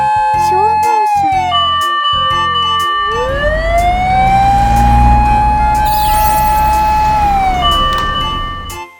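A fire truck siren in a children's cartoon wails loudly with a long rising and falling tone, running steadily over a low engine rumble before fading at the end.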